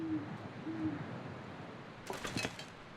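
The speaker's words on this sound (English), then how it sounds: "There's a bird noise." Two low owl hoots sound in a snowy wilderness survival game, followed by a short burst of faint chirping bird calls.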